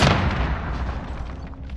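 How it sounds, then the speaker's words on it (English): A heavy boom from a precision airstrike in the Call of Duty Modern Warfare beta, one loud close blast that rumbles and slowly fades over a couple of seconds. "Friendly precision airstrike inbound."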